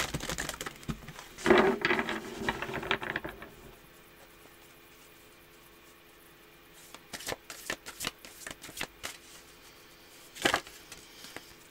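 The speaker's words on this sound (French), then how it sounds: "je vais tirer 3 cartes" Tarot cards are shuffled with a brisk riffling burst near the start, then after a quiet pause come several sharp card snaps and slides as three cards are drawn and laid down, all close and without talk.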